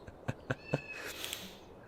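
A kitten stuck down a well in the PS1 game Harry Potter and the Philosopher's Stone gives three evenly spaced short meows, followed by a thin, drawn-out higher cry over faint background ambience.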